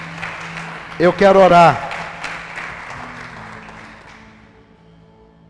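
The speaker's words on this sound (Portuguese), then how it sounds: "Você pode dar um aplauso a Jesus bem forte." Church congregation applauding, a short loud burst of clapping and cheering that quickly fades, with someone speaking before and after it.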